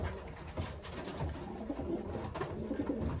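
Racing pigeons coo steadily at a club loft, soft repeated low calls layered close together over a busy, rustling background with no talk.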